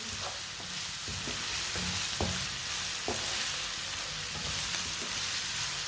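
Vegetables stirred in a hot frying pan for a home recipe: a steady, loud sizzle runs throughout, broken by scattered scrapes and clinks of the spoon against the pan, close up and without speech.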